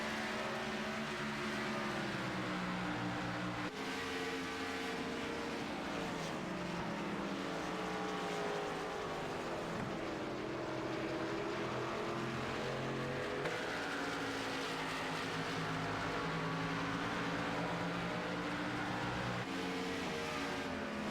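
Race car engines in an e-sports racing video game at New Hampshire drone loudly and continuously, their pitch rising and falling as the cars circle the track, with no talking.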